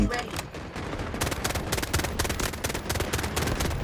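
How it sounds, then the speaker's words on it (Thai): Rapid gunfire bursts from the video game Delta Force fill the clip, dense and continuous with sharp repeated shots and heavy low rumble throughout. "จับปืนแล้วยิง"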